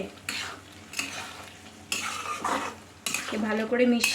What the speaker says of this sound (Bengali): এবার এটাকে ভালো করে মিশিয়ে